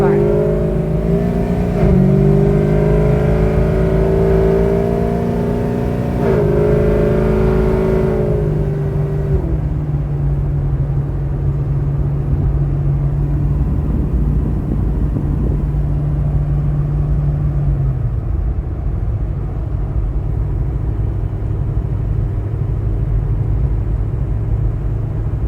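A car named Artemis drives down the road, its engine revving up through rising harmonic sweeps, then settling into a steady drone before dropping off, with wind and road rumble throughout.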